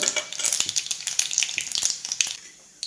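Cumin seeds, added after mustard seeds, sizzle and crackle in hot oil up close, bursts of bright spattering that fade toward the end.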